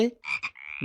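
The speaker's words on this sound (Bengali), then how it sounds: "ব্যাং" A frog croaks in a few short, bright bursts, close and alone, the calls clipped and rapid.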